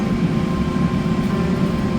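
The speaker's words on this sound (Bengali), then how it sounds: "আমরা এখন ট্রেনে উঠে পড়েছি সবাই মিলে," Steady low rumble and drone from inside a moving train on a ride home at night, a continuous even roar with no talk.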